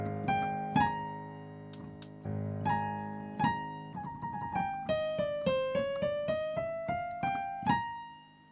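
Solo piano in an outro passage: sustained chords, then a rising run of single notes stepping upward one after another, each struck with a clear attack and ringing decay, played alone.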